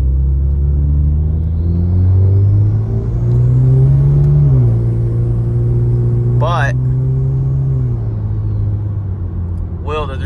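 Hyundai Genesis Coupe engine droning steadily from inside the car, its pitch rising and falling with throttle under a constant road rumble, while someone speaks over it.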